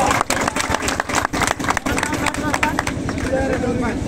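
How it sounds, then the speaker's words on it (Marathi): Applause and cheering from a crowd at an OBC rally, with a burst of rhythmic clapping that runs strongly for a few seconds and then thins out, while voices are heard through the crowd. "टाळ्या वाजून आपण त्यांचं स्वागत करूया"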